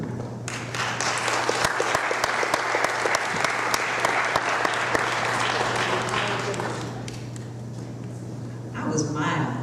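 A lecture-hall audience applauds to welcome Dr. Brittany Cooper, with dense, sustained clapping for about seven seconds under a low steady hum before it fades out.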